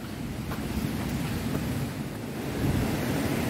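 A hidden waterfall near Mumbai roars as a steady, broadband rush of falling water, continuous and moderately loud with no voices over it.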